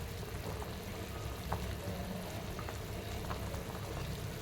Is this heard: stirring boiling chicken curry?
yes